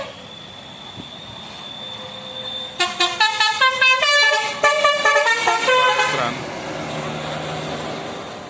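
Telolet and basuri horns on Haryo Trans buses at the Bokong Semar bend on the Jogja–Wonosari road play a rapid series of bright melodic honks lasting several seconds, loud and close, over a background of traffic and crowd murmur.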